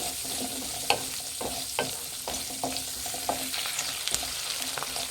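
Onions soften in hot oil for hotel-style sambar, a gentle constant sizzle punctuated by repeated spoon scrapes and light knocks against the pan, close and fairly quiet, without speech.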